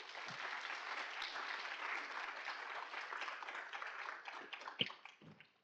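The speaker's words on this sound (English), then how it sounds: "let's give another big round of applause to Emma." Warm applause from an audience at a storytelling talks retreat, a sustained wash of clapping that thins out into a few scattered final claps, heard at moderate distance.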